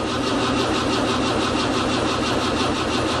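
An older tractor engine cranks and runs in a steady, loud, continuous chug close by, with a rhythmic pulsing throughout and no voices.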